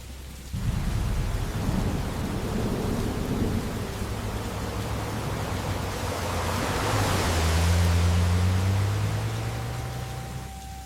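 Heavy pouring rain roars steadily as a dense wash of noise, with low rumbling thunder swelling underneath midway, continuous and close throughout, no talking.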